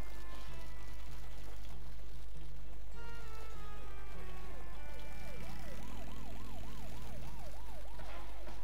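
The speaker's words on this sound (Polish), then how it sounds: "O, policja sobie goni." A police siren wails in the Bully video game, its rising and falling tone sweeping over game sounds at moderate volume.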